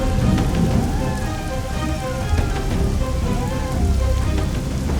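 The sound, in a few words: heavy rain pouring, story sound effect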